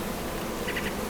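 A steady, close buzz of a package of honeybees with a queen drones throughout, with a few brief higher-pitched hums rising near the end.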